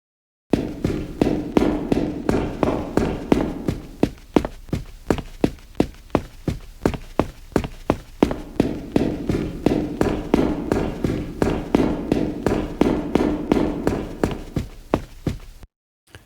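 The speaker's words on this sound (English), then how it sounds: "we should be able to hear the change in sound on our footsteps" Rapid, evenly paced footsteps in a Unity game run through a trippy FMOD reverb, each step a soft thud smeared into a washy echoing tail, continuing steadily for the whole stretch with no talk.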